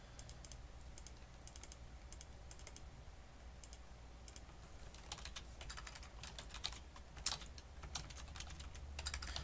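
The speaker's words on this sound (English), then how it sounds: "Just typing in the information that I want to send to the script." Soft, quick tapping of a computer keyboard, irregular bursts of keystrokes continuing throughout over a faint background hum.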